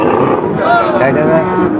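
A large Friesian cow at a cattle market gives one loud, close, drawn-out moo that fills the whole moment.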